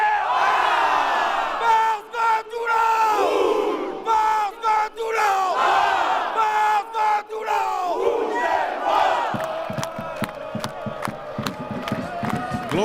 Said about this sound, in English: It's now time for the pilou.